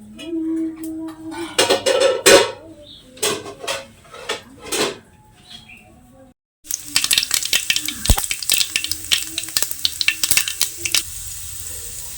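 Mustard seeds fry in hot oil for a homemade thoran. Several knocks and clatters of pans and utensils come first, then a loud, close, sustained sizzle breaks out, studded with sharp popping crackles.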